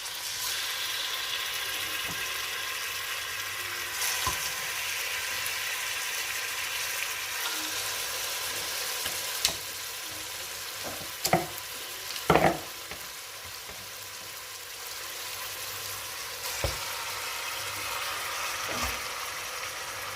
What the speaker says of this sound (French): Je vais tout de suite mettre ma viande dans ma marmite dans laquelle j'ai mis un filet d'huile d'olive.